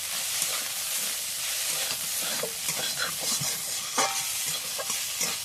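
Noodles with spice mix being stirred in a pan over a continuous loud sizzle, with frequent scraping and clattering strokes of a spatula throughout.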